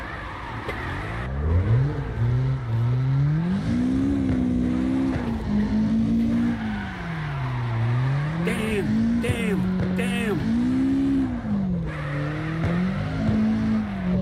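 A car drifts in the CarX Drift Online video game, its engine wailing continuously and rising and falling with throttle and handbrake taps, while tire squeal runs through the slides.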